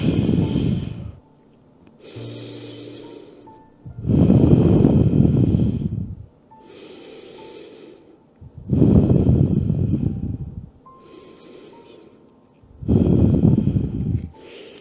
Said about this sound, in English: Just taking a couple of deep breaths here.